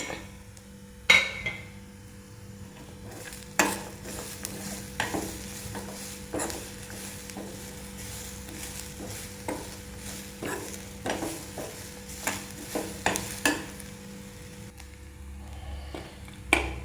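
Peanuts and cashews stirred and fried in a pan while making a breadfruit (kadachakka) curry: a faint, steady sizzle under repeated scraping and clinking strokes of a spoon against the pan, heard close up.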